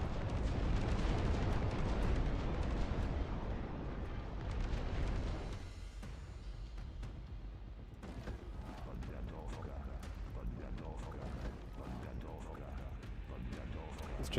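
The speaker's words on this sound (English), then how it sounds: "But the bombs are away. Hooray for the bomber." Bombs dropped by a bomber explode in the real-time strategy game Dust Front: a heavy, rumbling barrage of blasts roars for about five seconds, then thins into quieter crackling battle noise that continues to the end.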